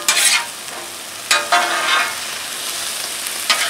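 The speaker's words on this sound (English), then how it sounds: "As your meat browns, you keep stirring it," Meat sizzles loudly on a hot Blackstone griddle while a spatula scrapes, stirs and chops it in a few sharp strokes as it browns for street tacos.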